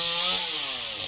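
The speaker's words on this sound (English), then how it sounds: "It's actually chainsaw" Steady, close chainsaw engine running at high revs, a bright buzzing whine held for about a second with no breaks.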